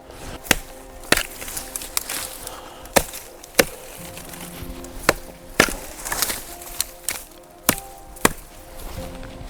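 An axe or hatchet chops wood from a dead tree on a calm lakeshore. About a dozen sharp, woody thwacks land close by at an irregular pace, roughly one every second, with quieter rustling between strikes.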